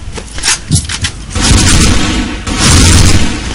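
Video game gunfire and booming blasts, loud and dense, starting with a few separate bangs and then merging into a sustained roar of rapid shots and explosions. Faint speech-like sounds may be present.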